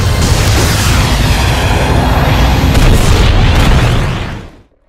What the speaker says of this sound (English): Now, my catapult, go and shoot my magician.